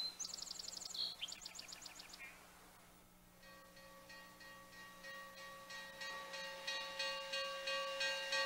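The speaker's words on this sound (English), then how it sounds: "Now, steam" Steam hisses steadily, with a sustained breathy rush that grows slowly in strength, opened by quick rhythmic chirping bursts before a sharp cut and a long, faint, steady hiss.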